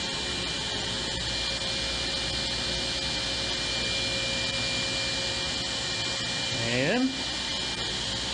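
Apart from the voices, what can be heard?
table saw cutting with a tapering jig sled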